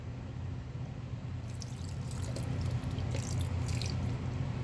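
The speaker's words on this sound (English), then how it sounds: "So now I will give it one last watering." Water poured from above into a closed glass jar holding golden pothos cuttings, a steady dripping and splashing trickle that brightens and grows slightly louder partway through, close and continuous with no talk.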